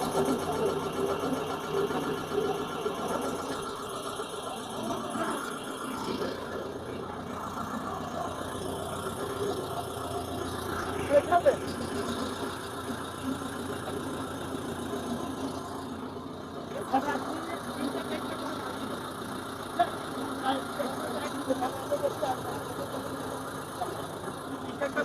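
A straw chaff cutting machine with four blades runs with a steady mechanical drone and rattle, broken by occasional clanks. Voices speak intermittently over the running machine.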